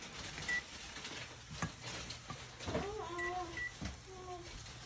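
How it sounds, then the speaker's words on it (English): Noodles cooking in milk in a pan are stirred with a few quiet, scattered scrapes and clinks over a soft simmer, faint and close. "just keep stirring that because yeah, we don't want the noodles to end up becoming"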